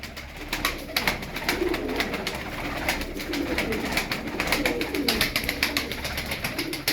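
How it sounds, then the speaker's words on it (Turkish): Double mirror-tail pigeons, blue birds among a flock with feed on the ground, give soft, steady cooing and calls, joined by repeated sharp flutters and wing claps throughout. "Yine duble ayna kuyruk mavi."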